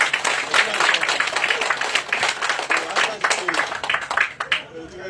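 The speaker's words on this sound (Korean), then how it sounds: "큰 박수 한번 보내주시기 바랍니다" Applause from a crowd at the opening ceremony of a park golf course in Yeonsan-myeon, Nonsan, a dense, continuous clatter of clapping that swells and dips, with a few voices mixed in.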